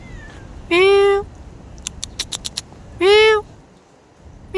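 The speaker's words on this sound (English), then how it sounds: "I think I got a cat." A cat gives two clear, drawn-out meows a couple of seconds apart, with a quick run of short clicks in between.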